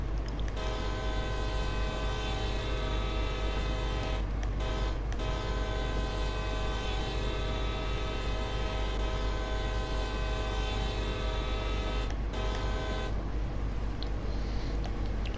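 Train horn of a coal train on the Allegheny mountain line in Train Sim World 2 blares in long, loud, sustained tonal blasts, broken by a few short gaps, over a steady low engine rumble.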